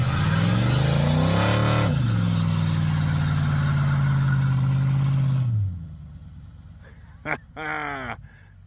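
An LS-swapped Chevy C10 square-body truck with no catalytic converters and no mufflers revs up hard, then holds a loud, raspy drone before dropping off; afterward a voice speaks over the quieter rumble.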